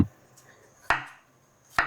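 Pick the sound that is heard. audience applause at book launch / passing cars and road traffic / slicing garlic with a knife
slicing garlic with a knife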